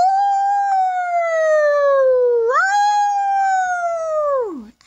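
A long, clear howl like a wolf's, voiced during a children's story reading, rising then sliding down before swelling again and dropping away at the end, loud and close with no other sounds.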